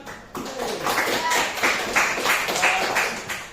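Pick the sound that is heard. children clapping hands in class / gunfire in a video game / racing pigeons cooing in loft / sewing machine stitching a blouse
children clapping hands in class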